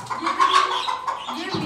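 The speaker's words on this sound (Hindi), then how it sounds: "ये मियाँ वाली की असील मुर्गी है" Aseel hen clucking close by in a few short, throaty bursts, fairly loud, with faint background noise around it.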